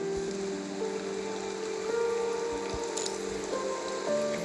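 Steady rain falls on a city street at night, a continuous close hiss of drops on pavement with a soft sustained tonal background underneath.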